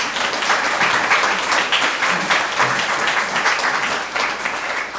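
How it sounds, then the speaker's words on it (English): An audience applauds a judge being introduced at the launch of the 2020 International Dublin Literary Award, with sustained, fairly loud clapping from many hands that continues evenly from start to finish. "Let's give her a round of applause."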